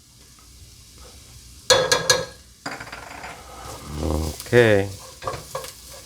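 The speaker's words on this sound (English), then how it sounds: "so let's stir this like that" Pumpkin and string beans cook in a pan while a utensil stirs, making several sharp scraping strokes and clatters over a soft sizzle; a voice speaks briefly in between.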